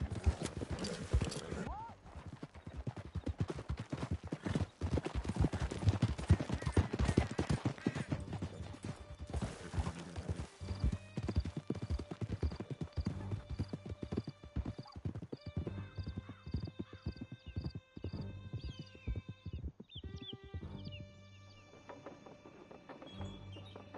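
A horse gallops in Red Dead Redemption 2, with rapid rhythmic hoofbeats and occasional neighs running throughout under intermittent voices and game music.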